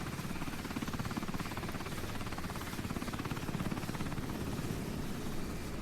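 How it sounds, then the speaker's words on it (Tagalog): A helicopter's rotor and engine drone in a video game cutscene as the aircraft goes down in a crash, a steady, dense roar with a fast rotor chop that stays loud and close throughout, with no talking. "Ang bagal ng cutscene ko, mag-crash na nga lang yung helicopter."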